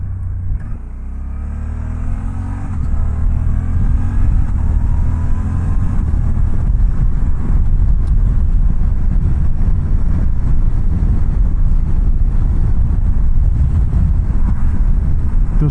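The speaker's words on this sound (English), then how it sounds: "This motorcycle is just a lot of fun to ride." A 2024 Suzuki V-Strom 800 motorcycle under way on the road, its engine droning loud and steady with a low rumble and heavy wind buffeting across the microphone, and no voices.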